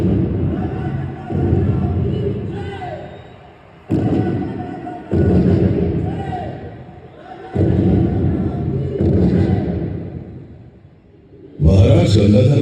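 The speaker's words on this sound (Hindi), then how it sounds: "महाराज गंगाधर राव को कड़क बिजली और भवानी शंकर नाथ की तोपों से सलामी दी गई" At a fort laser show in Jhansi, a cannon salute effect sounds as about five heavy, booming blasts, each one loud and rumbling before it fades. Narration runs between the blasts.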